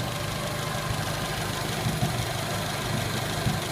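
A 1980 Chevy Luv engine idles roughly and steadily with a low rumbling drone and faint knocking pulses, running poorly after brake booster work.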